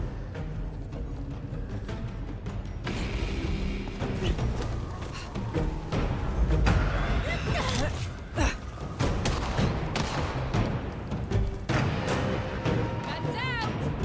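Gunfire in the action game Vampire: The Masquerade Bloodlines 2, a dense volley of loud shots and bursts with heavy booms, continuing throughout over a busy battle din.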